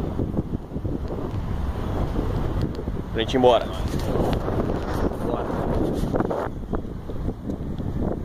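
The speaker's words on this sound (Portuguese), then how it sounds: "Tá ventando pra caralho." Strong wind buffets the microphone on Copacabana beach in Rio de Janeiro, a steady loud roar with gusts and possible surf underneath, while people talk briefly over it.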